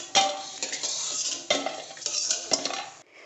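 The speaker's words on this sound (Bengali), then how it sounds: "তো এখন আমি একটা পাত্রে বড়িগুলোকে তুলে নিচ্ছি।" Fried lentil dumplings (bori) scooped out of a pan and into a bowl: metal utensil scraping and clinking against the cookware in a few distinct strokes, close and clear, over a faint background sizzle, no talking.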